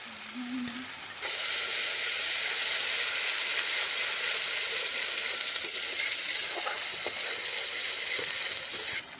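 A pan sizzles steadily and loudly as tomatoes fry, a constant hiss with occasional pops and a brief clink at the start.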